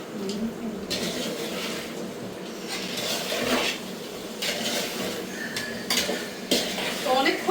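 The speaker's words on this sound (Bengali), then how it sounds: "বিরিয়ানি রান্না চলছে, মা রান্না করছেন, আমি এসেছি একটু দেখতে আর নাড়াচাড়া করতে।" A spoon scrapes and clatters through biryani and meat in a cooking pot, giving repeated metallic stirring knocks over a soft sizzle close by.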